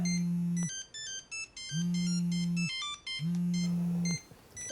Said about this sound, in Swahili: Pick the phone.